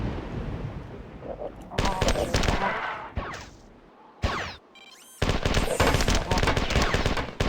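Assault rifle gunfire in the video game Marathon: loud, dense bursts of rapid automatic shots, broken by short pauses and one brief near-silent gap, with a clicking mechanical sound between volleys.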